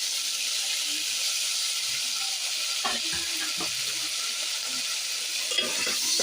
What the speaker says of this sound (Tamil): நல்லா வதக்குவோம், பச்சை வாசனை போகிற வரைக்கும். பாருங்க, நல்லா வெங்காயம் வதங்குது.